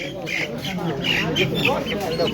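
Native ducks at the Khagutia village market in Tangail give short nasal quacks and squawks close by, mixed into crowd chatter and talking.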